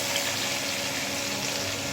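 Chopped big onions frying in a pan with mustard seeds for a dhaba-style egg gravy give a dense, even hissing sizzle, loud and close, constant throughout with no voices.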